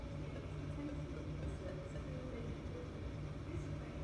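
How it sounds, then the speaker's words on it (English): A train idles on the tracks with a low, steady engine rumble and drone that holds constant throughout, fairly distant and alone without speech. "this train's just sitting here"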